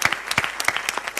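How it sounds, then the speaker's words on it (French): A short burst of studio audience clapping on a French TV word-and-numbers game show, distinct individual claps close and fairly loud. "Et les mêmes applaudissements pour Philippe et pour Clément."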